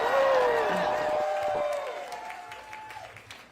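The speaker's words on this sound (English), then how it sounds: "Wow, that crowd is blowing out that mic." Crowd cheering and applauding at a mayoral primary night event in New York City, loud and close with whoops rising over the clapping, overloading the microphone at first, then tapering off slightly.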